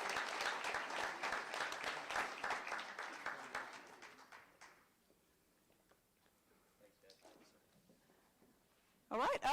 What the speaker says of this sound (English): Ladies and gentlemen, please join us in me in applauding the next generation of construction technology professionals.